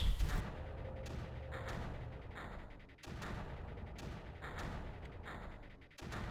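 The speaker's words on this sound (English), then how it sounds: "Let's start bombarding the emitters." Mortar bombardment of Creeper emitters in Creeper World, a steady run of repeated muffled booming thuds and rumbling impacts that continue without pause, with no voices over it.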